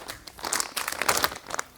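A plastic bag crumples and crinkles in close, irregular bursts of crackling rustle for under two seconds, with no talk.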